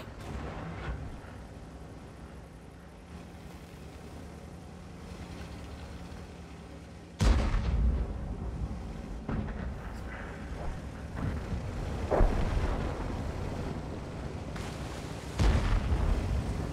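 Artillery fire in World of Tanks, with several heavy booming shots and impacts spaced a few seconds apart over a constant rumbling in-game background, loud and close with no talking.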